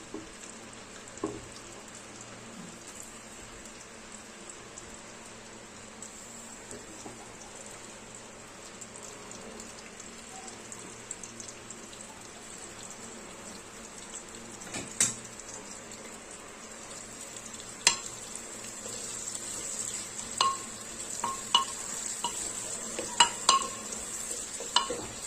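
Onions sautéing in a pan for chicken curry give a soft, steady sizzle. Spoon scrapes and clicks grow busier and louder toward the end, and no one speaks.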